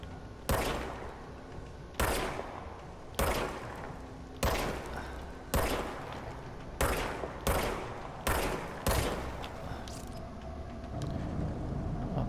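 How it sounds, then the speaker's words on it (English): Automatic weapon fire in the video game Control, sounding as about nine separate loud bursts at a steady pace with short gaps between them, and no talking. "Okay, so it reloads by itself."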